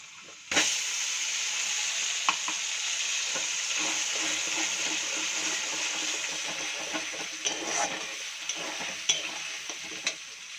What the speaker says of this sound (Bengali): আদা, রসুন, টমেটো, লঙ্কার যে এই পেস্টটা আমি বানিয়েছি, এটাকে এবার আমি ভালো করে কষিয়ে নেবো